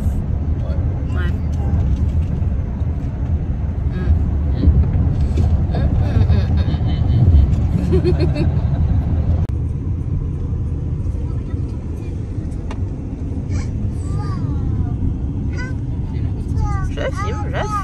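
A car cruising along Historic Route 66 near Tulsa, Oklahoma, with a steady low road rumble and engine drone throughout, under chatter from people inside and a few sharp clicks and whistling tones near the end.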